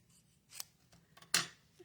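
Two short, crisp snips of scissors trimming paper for a card layout, close and quiet, separated by a brief pause with no talk.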